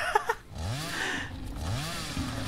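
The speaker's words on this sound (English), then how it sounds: "I've got a chainsaw" Revving chainsaw in the video game Satisfactory, a buzzing motor whine rising and falling in repeated sweeps, loud and close, with a few short clicks at the start.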